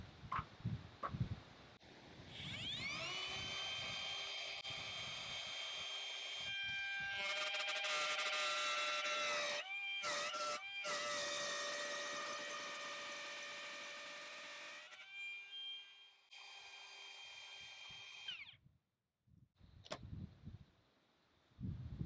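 Milwaukee M18 cordless 1/2-inch router spinning up and cutting 15 mm into fresh sawn solid oak, a loud rising whine that holds steady through the cut with brief dips, then spins down near the end.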